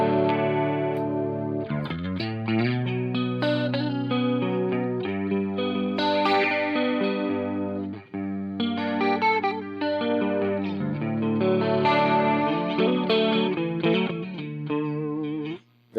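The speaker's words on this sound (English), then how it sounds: "the first patch that I have here is a clean sound, just a clean boost with a dimension effect on the HX1" Clean-boosted electric guitar run through a dimension chorus effect on a Line 6 HX pedal, chords and notes ringing with a wide shimmering modulation, played alone and continuously with a brief pause midway.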